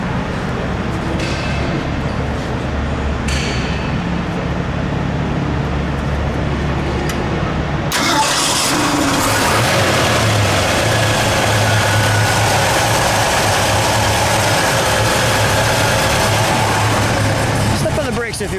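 A 1971 Ford Boss 351 Mustang with a four-speed sits at idle, a loud, steady, low engine rumble with a rougher shift partway through, close by, with people talking over it.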